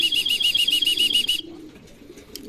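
A racing pigeon comes home to its loft after a training flight, with a quick run of rhythmic wing flaps that stops abruptly into near quiet.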